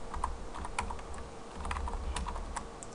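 Quick, uneven clicking of keys on a computer keyboard while entering C# code, close and fairly quiet over a low steady hum, with no speech.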